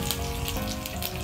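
Cumin seeds and three whole dried red chillies frying in hot mustard oil, giving a soft, steady sizzle with faint crackling pops, fairly quiet and close, with no talking over it.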